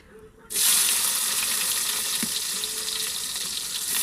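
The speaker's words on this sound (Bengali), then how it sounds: "পেঁয়াজটা ভাজা হয়ে গেছে" Onion hitting hot oil in a kadai as the base for a fish oil-jhal: after a brief quiet moment a loud, continuous close sizzle starts and stays strong and even to the end.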